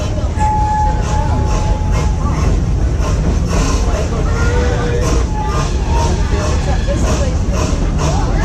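A Busch Gardens park ride train rolls along its rails with a continuous rumble and rattling, while a murmur of people talking sits underneath.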